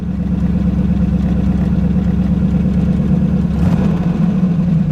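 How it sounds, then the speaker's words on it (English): The turbo LS-swapped Ford Mustang idles with a loud exhaust, a steady deep rumble heard close and strong, with a slight shift in tone near the end and no talking. "I can't really tell if we have like an engine ticking noise or it's just my stupid loud exhaust."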